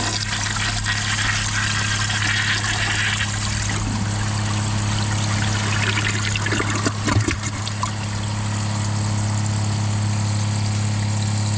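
Kohler Wellworth Ingenium toilets, 2003 and 2005 models, flushing during a blocked siphon jet test, with a continuous rushing, trickling water sound and a low steady hum, plus a few brief gurgles partway through.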